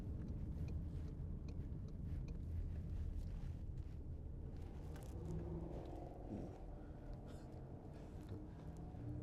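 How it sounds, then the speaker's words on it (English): A car overtakes on a country road, heard from inside a 2016 Volkswagen Passat 2.0 TDI, a steady low road rumble with wind noise as the passing car swells and fades. "there's a car behind me who looks like perhaps he wants to go a whole lot faster than me"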